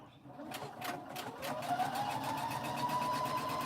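A sewing machine sews a pink baby quilt, a close, continuous run of fast rhythmic stitching that hums steadily and slowly rises in pitch.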